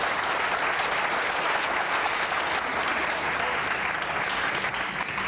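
Steady, dense applause from a studio audience on a Pakistani cricket talk show, loud and continuous throughout with no voices over it.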